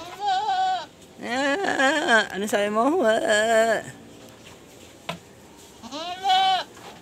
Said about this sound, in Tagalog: Yan na yung mga kambing natin, oh.